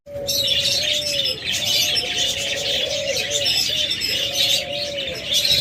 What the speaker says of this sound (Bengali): চলুন আপনাদের একে একে দেখাই আজকে আমাদের পাখিগুলো